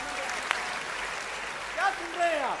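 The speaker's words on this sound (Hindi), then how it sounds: "आपको मजा आया हो तो एक बार मजेदार तालियां बजाइएगा।" An audience at a Hindi kavi sammelan poetry gathering claps in a continuous wash of applause, with a voice speaking over it near the end.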